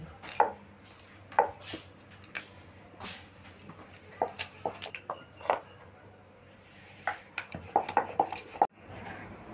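Flour dough rolled out into a large roti on a board, with repeated sharp knocks and clacks of the rolling pin in irregular bursts, close and clear over a quiet room hum, no talking.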